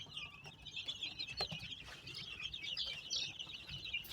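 Chicks being fed chirp and cluck in a busy, continuous high-pitched chatter, close by and fairly faint, with no talk.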